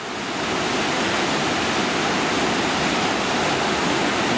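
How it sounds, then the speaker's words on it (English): Water rushes over a weir on the River Ogmore just upriver from Swanee Bridge, a loud, close, unbroken roar of white noise with no voices. "Here we have a little closer shot for you now of the weir just upriver from Swanee Bridge"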